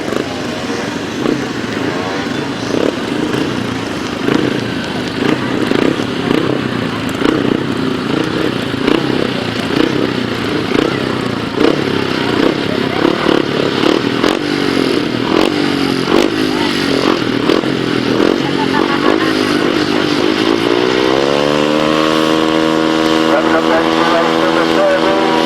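Speedway solo motorcycles racing in heat 13 of a 500 sidecar super series meeting, engines rasping loudly and continuously with rising and falling revs, a commentator talking over the roar.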